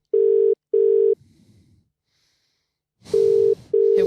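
Outgoing phone call ringback tone, two long steady buzzing rings, a short pause with faint rustle, then two more rings, loud and close.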